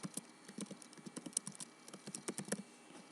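Quick, uneven keystrokes on a computer keyboard as a field name is typed, a close, quiet run of light clicks with short pauses and no talking.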